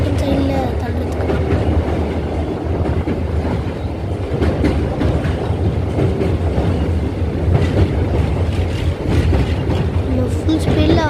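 A train passing at full speed, loud continuous rumble and rattling clatter of wheels on track close by, steady throughout with a voice talking over it.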